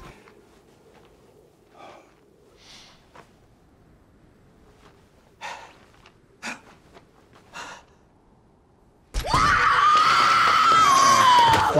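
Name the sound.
witch screaming in Suspiria film clip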